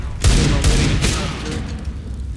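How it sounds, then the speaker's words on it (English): Grenades thud and explode in a fast video game match, several sharp booms clustered within a second, fairly loud and close, with a brief voice in the mix. "Nades coming down through mid."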